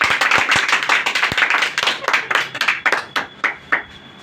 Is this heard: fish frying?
no